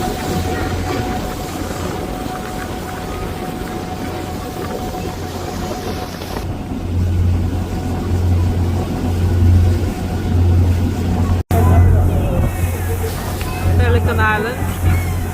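A harbor tour boat's engine drones low and steady on Galveston Bay beneath a guide's spoken commentary. The drone briefly cuts out before resuming.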